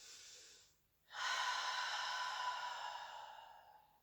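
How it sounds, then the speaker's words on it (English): Deep breathing during a stretch-and-release session: a short breath, a pause, then one long, loud, airy exhale that fades slowly, close to the listener. "Deepening it, letting go with bigger exhales."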